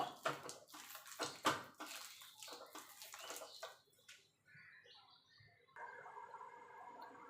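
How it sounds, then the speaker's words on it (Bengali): Palm fruit pulp squelches and slaps as hands knead and soften it with small additions of water, a run of wet rhythmic squishes fading into quieter sloshing and trickling. "এইভাবে আমি অল্প অল্প করে জল দিয়ে ভালো করে তালের আটিগুলোকে নরম করে নেব"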